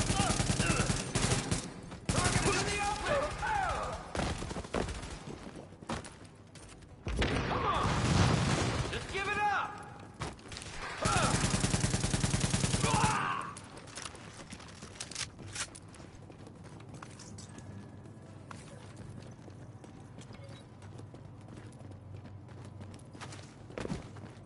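Gunfire from The Division video game: sharp rapid bursts of automatic fire in several loud clusters, separated by quieter gaps, then fading to sparse distant shots and low ambience toward the end.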